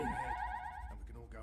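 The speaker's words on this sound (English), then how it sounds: "The alarm must have been triggered by the dream machine." An intruder alarm in the Dreamfall Chapters video game sounds as a repeating electronic wail for just under a second, then cuts off as a person speaks.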